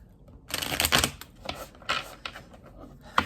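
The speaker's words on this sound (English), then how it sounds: "Let's shuffle these up for you guys." Tarot deck being shuffled by hand, close irregular bursts of crisp card riffles and flicks separated by short quiet gaps.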